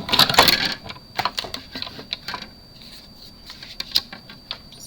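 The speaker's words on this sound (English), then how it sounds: "now I'm pulling back out my Stampin' Cut and Emboss machine again." A Stampin' Up Cut and Emboss machine pressing a die through cardstock gives close, dry clicks and crunches, dense at first and then thinning to sparse ticks.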